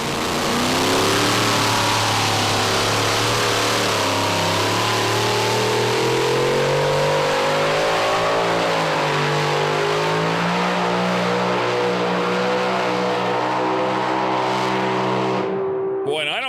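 A super modified pulling tractor powered by four automotive engines roars loudly and continuously at a dirt track pull in Chandler, Arizona, engine pitch wavering and climbing as it hauls.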